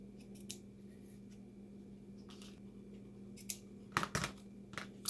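Scissors snip through paper card tags for handmade birthday cards, a scatter of short crisp cuts that cluster toward the end over a steady low hum; no voices.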